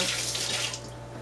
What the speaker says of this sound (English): I'm just gonna rinse my hands here.